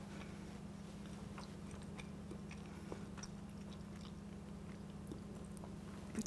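Close, quiet chewing of a crusty piece of baked picnic ham dipped in raisin sauce, with soft irregular bites and crunches over a steady low hum.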